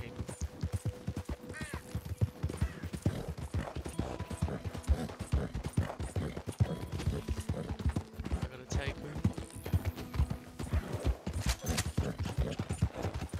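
Horse hooves clip-clop steadily in Red Dead Redemption 2, a busy rhythmic patter of steps under game ambience and music, with someone talking over it.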